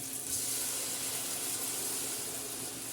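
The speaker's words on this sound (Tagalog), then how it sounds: "lagay na natin muna yung ating gata bago natin ilagay yung ating tilapia" Coconut milk pours into a cooking pan for a tilapia dish, making a steady, soft hissing splash that runs without a break, quiet and close, with no voices.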